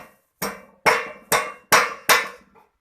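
Hammer blows shaping a red-hot iron J hook at a smithy, five sharp metallic strikes at an even pace, each ringing briefly before the next, close and clear with no talking.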